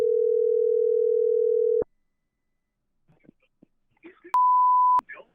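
A phone call to a coin shop: a steady loud tone for almost two seconds, a pause with faint clicks, then a single shorter, higher beep.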